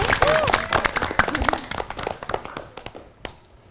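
Studio audience clapping on a TVRI quiz show, a burst of sharp hand claps that thins out and fades toward the end, with voices talking over the start.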